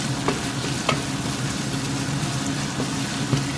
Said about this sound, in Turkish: Bir tane de sarımsak doğralım küçük küçük. Onu da hafif döndüreceğim.